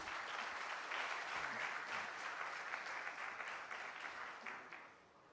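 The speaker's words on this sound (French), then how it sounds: "Vos applaudissements." An audience at a conference on food self-sufficiency breaks into sustained applause, a full, even roar of many hands heard from some distance that fades toward the end.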